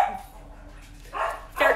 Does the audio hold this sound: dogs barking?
yes